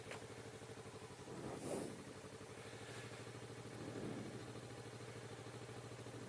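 A 2016 Kawasaki Vulcan S ABS motorcycle engine idles steadily at close range, a low even rumble with a fine regular pulse and no voices.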